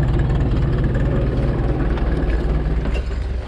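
A 1972 McCormick International B276 antique tractor engine runs steadily at low revs without throttle, a loud, close, continuous throbbing rumble with no pauses.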